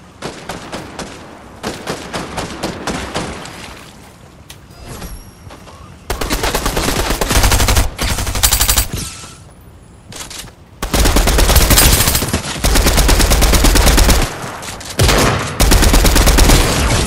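Rapid automatic gunfire from the video game Fortnite, loud bursts of repeated shots with short gaps between volleys, some lighter single shots early on.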